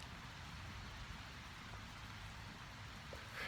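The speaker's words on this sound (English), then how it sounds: "it started to rain pretty good" Rain falls steadily outdoors as a soft, even hiss that holds without a break for a few seconds, faint and with no voices.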